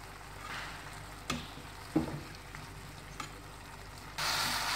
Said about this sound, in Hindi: अब हम इसको दोबारा मिक्स करेंगे।